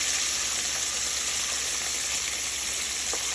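Mustard fried chicken coated in cornstarch and flour crackles in hot oil, a dense, continuous sizzle heard up close with no pauses.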